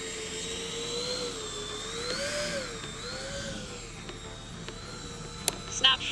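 An RC plane, balanced with two 3200 battery packs in the nose, flies low over grass doing 3D hover maneuvers, its electric motor whine rising and falling steadily throughout with a few faint knocks near the end.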